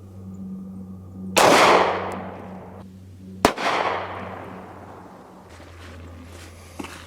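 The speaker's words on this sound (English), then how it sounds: "we're shooting the Glock 19 Gen 5 with a Wheaton Arms barrel" Two sharp 9mm shots from a Glock 19 Gen 5 with a Wheaton Arms barrel, firing 115 grain Fiocchi full metal jacket rounds at a plate 21 feet away at a range, each a loud crack with a decaying tail, over a steady low hum.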